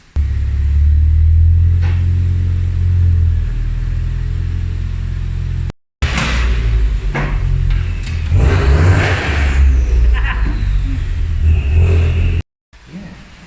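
A Ford Escort Mk3 RS with a Simpson race exhaust revs hard and loud, rising and falling in bursts of throaty roar, with two brief cutouts where the sound drops away.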